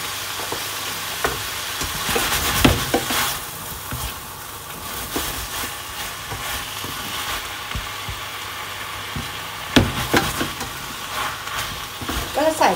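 Spicy seafood with large shellfish being stir-fried in a pan with oyster sauce, a steady sizzle broken by scraping and clanking of a utensil against the pan, with a voice speaking over the cooking.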